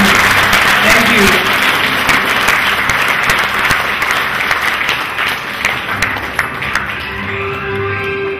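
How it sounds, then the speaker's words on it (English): Audience applause after an economics lecture by a visiting professor at a university, loud, close, sustained clapping from a crowd that gradually eases, with voices speaking faintly underneath toward the end. "Please give a big applause for Professor Myerson."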